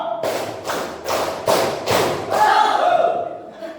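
Adults gathered at a teachers' meeting clap together on a leader-called two-clap pattern, producing five crisp, evenly timed claps in unison, then voices and a shout as the rhythm ends.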